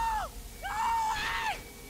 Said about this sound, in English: It's like the worst scream ever.